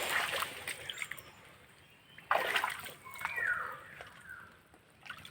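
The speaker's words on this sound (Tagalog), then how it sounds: "Nanggalaw yung tubig." Water splashing and sloshing in a tidal area during crab hunting, with irregular bursts of splashes separated by quieter moments, and one strong splash near the middle.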